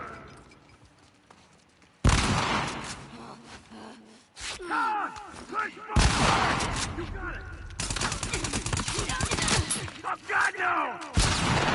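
Heavy shotgun blasts and other gunfire from The Last of Us Part II erupt in loud separate booms amid chaotic combat noise, with a player's voice and in-game grunts heard between shots.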